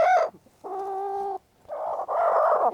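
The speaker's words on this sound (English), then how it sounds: "And there's another hen trying to lay in the same box." A hen clucks and squawks in bursts inside a nesting box on a free-range farm, with several loud, close calls separated by short pauses and no talking.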